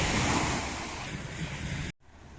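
Loud, rushing surf with wind roar, waves washing continuously before cutting off abruptly near the end.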